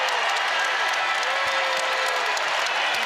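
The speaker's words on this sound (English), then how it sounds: "And the crowd comes alive for the first time today." A basketball arena crowd in a Wake Forest vs. Virginia ACC men's game roars and applauds after a shot clock violation, a dense, sustained wall of cheering with no break.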